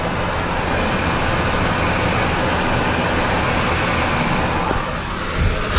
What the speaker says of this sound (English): amazing sounding engine.